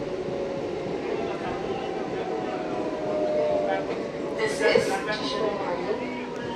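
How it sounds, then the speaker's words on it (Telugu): Hubli–Guntakal MEMU train arriving at tiny Siswinahalli station, a continuous rumbling rolling noise heard from on board, with a brief high squeal or hiss burst partway through as it slows. "సిస్వినహల్లి స్టేషన్కి మన ట్రైన్ చేరుకుంది"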